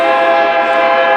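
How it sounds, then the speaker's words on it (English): A train sounds its horn as it passes close by, a loud, steady, multi-tone blast held throughout with nothing else audible. "let the train pass."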